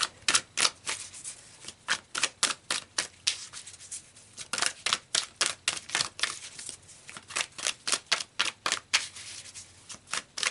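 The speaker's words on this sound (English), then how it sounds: "So let's pull some more cards here." Tarot cards shuffled and handled in rapid bursts of crisp papery riffles and snaps, close and fairly loud, with short pauses between flurries and no talking.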